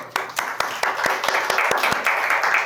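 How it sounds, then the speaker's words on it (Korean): Church youth congregation claps during a sermon: a quick, somewhat uneven patter of sharp hand claps from a group, close and lively for a few seconds. "우리 박수 한번 칠까요?"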